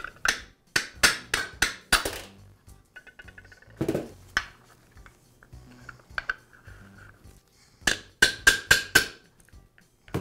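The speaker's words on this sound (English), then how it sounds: "To remove them, I'll place the housing on a flat surface and use a punch to tap the pivot" A metal punch taps at a pivot pin on a Milwaukee reciprocating saw housing laid on a flat surface, giving sharp, close metallic strikes in quick bursts of four or five, with quieter clinks and gaps between them.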